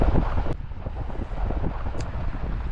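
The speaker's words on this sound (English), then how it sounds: "it's kind of windy out" Wind buffets a microphone in rough, low gusts while riding a LEO APEX 32 kW electric scooter in North Carolina, a continuous blustery roar with no voices.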